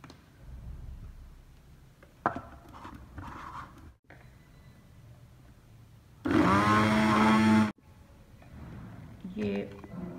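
A mixer grinder blends mint, coriander and sev into a green chutney in one loud, dense burst of whirring of about a second and a half, with quieter kitchen handling and a little talk before and after.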